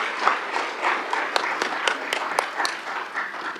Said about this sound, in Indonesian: Boleh kita beri tepuk tangan kepada Pak Menteri